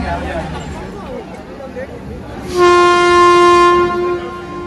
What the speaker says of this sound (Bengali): আমাদের ট্রেন নির্ধারিত সময় ছেড়ে দিল 11:50।